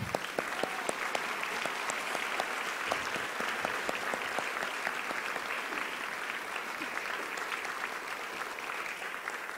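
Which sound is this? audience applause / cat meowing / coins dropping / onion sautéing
audience applause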